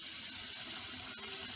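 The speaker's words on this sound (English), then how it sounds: "So, you will start by turning on the cold water." Cold water runs steadily from a tap into a sink, a continuous hissing splash at low level with no voices.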